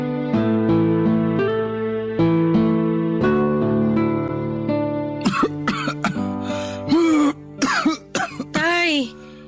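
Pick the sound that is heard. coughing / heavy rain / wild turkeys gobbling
coughing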